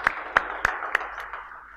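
A handful of sharp, evenly spaced handclaps from a congregation at a GMS Solo church service, four distinct claps fading into softer ones, fairly faint.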